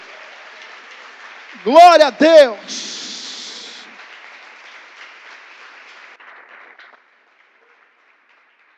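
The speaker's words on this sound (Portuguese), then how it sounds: "Aplauda ao Senhor por esta palavra." A voice exclaims in a church, then the congregation applauds. The soft clapping swells and fades away over several seconds into quiet.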